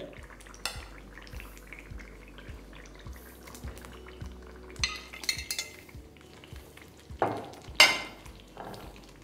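Fried potatoes and cauliflower are being mixed in a pan for a vegetarian aloo fulkopi. Soft, irregular clinks and scrapes of a spoon against the pan carry over quiet background noise, with a few sharper knocks.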